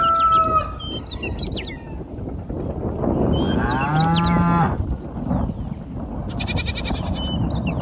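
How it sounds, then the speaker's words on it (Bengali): A cow lets out a long, loud moo up close in a riverside village, with a rooster crowing briefly before it and bird chirps afterward over steady outdoor ambience. "গরু ছাগল মুরগি"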